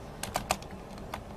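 A handful of soft, scattered keystrokes on a computer keyboard while typing into a Word document, quiet and close with short pauses between clicks.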